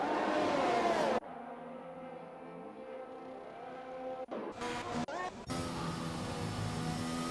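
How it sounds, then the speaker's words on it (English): Race cars in the F1 2021 video game at Spa-Francorchamps in cloudy, misty weather, a loud steady engine drone with several cars running at once and changing pitch as they pass, with brief dropouts midway. "there's a lot of cars out already"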